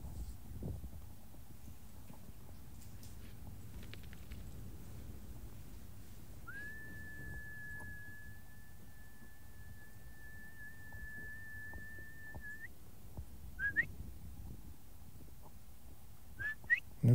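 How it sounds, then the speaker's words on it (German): A long, steady human whistle held for several seconds to call a dog outdoors, followed by a couple of short whistle notes, over quiet background with occasional small knocks. "Ich probiere es jetzt gleich mit einem langen Pfiff, ob da auch jemand zu mir kommt."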